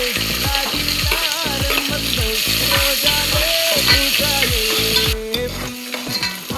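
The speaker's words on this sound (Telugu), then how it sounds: "ఆనియన్స్ మంచిగా వేడాయి." Onions with green chillies and cumin fry in hot oil for bean rice, a loud, close, continuous sizzle with repeated rhythmic stirring and scraping strokes throughout.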